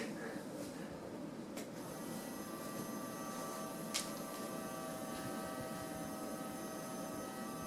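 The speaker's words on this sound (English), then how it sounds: "his motor's making noise" Small electric motor of a Tekky Toys black hovering ghost toy whirring steadily at close range, a low continuous hum with a faint brief click partway through and no voices.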